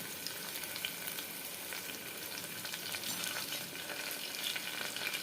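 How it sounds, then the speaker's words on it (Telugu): Curry leaves frying in a pan of hot oil for a jackfruit seed curry, a steady bright crackling sizzle with soft spattering pops, fairly quiet and continuous, no voices. "తర్వాత కరివేపాకు వేస్తున్నాను."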